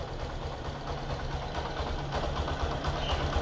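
A Yamaha YTX motorcycle engine idles steadily at close range after an overflowing carburetor was fixed and a vacuum fuel cock fitted, giving a continuous low rumble with an even, slightly uneven pulse and no talk over it.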